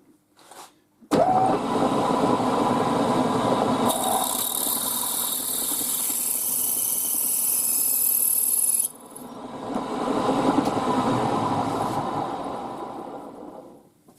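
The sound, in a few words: 8.2mm drill drilling metal windscreen bracket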